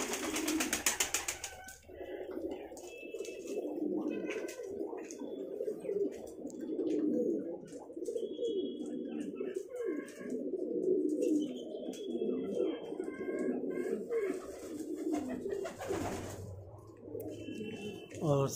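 Pigeons in a breeding cage, a tail-marked pair starting a new nest, give low cooing calls through most of the stretch, with soft chirps and rustling nearby and someone talking over them.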